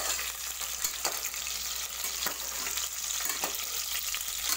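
Masala egg flower fries in a pan with a constant hissing sizzle, broken by periodic scraping strokes as a spatula stirs it around.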